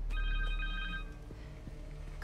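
A mobile phone rings in the Spider-Man 2 video game with a short electronic ring of steady tones over low game background rumble, then cuts off.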